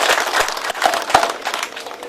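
Audience applause for a master woodcarver at a church ceremony in Timika honoring Auki Tekege: dense, steady clapping from a crowd with a few sharper claps standing out, sustained for the whole stretch.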